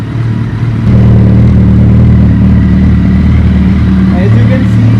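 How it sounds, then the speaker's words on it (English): Suzuki Hayabusa motorcycle idling during a DIY service with coolant being added, a loud, steady close engine hum with a low even pulse throughout. "The bike is idling right now."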